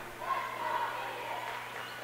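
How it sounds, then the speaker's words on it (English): Faint crowd noise fills a high school gymnasium during a Texas 5A bi-district girls' volleyball playoff match, Lockhart vs. Harlandale, a steady distant murmur of fans from both sides with no distinct cheers. "The crowd on both sides making some noise."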